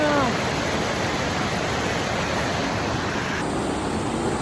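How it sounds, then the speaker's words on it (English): A stream runs beside a woodland trail, its water rushing in a steady, dense wash of noise that stays even throughout without a break. "All this running water."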